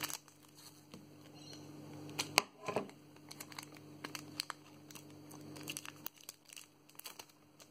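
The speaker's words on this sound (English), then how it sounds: "This pack requires scissors." Scissors cut open a foil Pokemon Sun and Moon booster pack, giving quiet crinkling and scattered sharp snips and clicks, with a louder tearing crunch midway and no talking.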